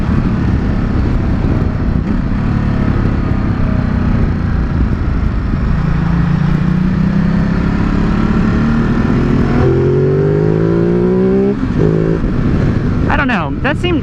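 A 2017 Ducati Multistrada 950 motorcycle is ridden with a loud engine drone and wind rush, rising in pitch as it accelerates through gears, while a rider talks over it.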